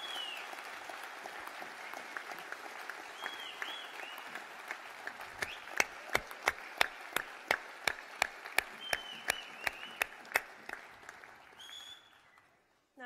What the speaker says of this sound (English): A big round of applause for all of our graduates today.